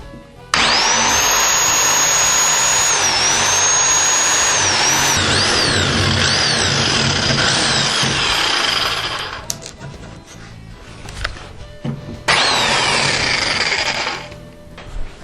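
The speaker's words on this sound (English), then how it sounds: "I'm going to use a Sawzall and I'm going to use a steel blade just so that I can get a nice fine slow cut." A Sawzall reciprocating saw fitted with a steel blade cuts slowly into a log for a handrail tenon, a loud, steady buzzing drone that drops off briefly and then returns.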